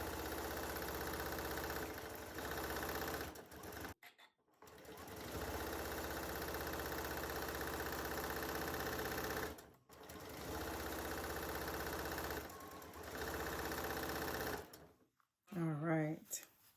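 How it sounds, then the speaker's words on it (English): Sewing machine stitching a quilt block, steady fast mechanical chatter in three long runs separated by brief pauses, close and prominent, with a short spoken phrase at the very end. "I'm going to sew this like this, right? And I'm going to sew from here to here."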